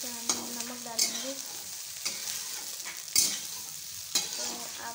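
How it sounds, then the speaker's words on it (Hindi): Soya chunks fry in oil in a pan as a spoon stirs them, with a quiet sizzle broken by about five distinct scraping and knocking strokes at roughly one-second intervals, close and unaccompanied by talk. "तेल डालकर और सोयाबीन डालकर उसे भून"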